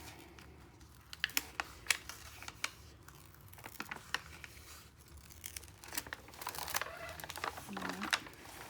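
Etsy parcel being opened by hand, scattered sharp crinkles, tearing and rustling of paper packaging close by, growing busier toward the end, with no talk.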